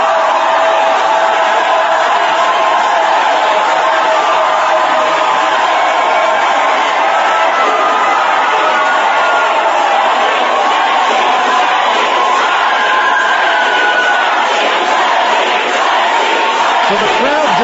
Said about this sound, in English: the crowd stepped in and started screaming